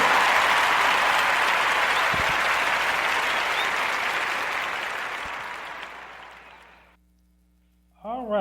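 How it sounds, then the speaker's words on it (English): An audience's warm round of applause, a full dense wash of clapping that gradually fades out, followed by silence and then a voice starting to talk. "Let's give her a warm Narrative Podcast round of applause"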